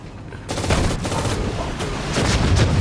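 Gunfire from the World War II strategy game Sudden Strike 4, a near-continuous fusillade of rifle and machine-gun shots with dull booms, loud throughout after a brief quieter start.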